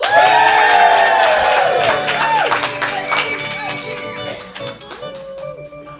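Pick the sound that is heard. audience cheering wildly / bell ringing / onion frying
audience cheering wildly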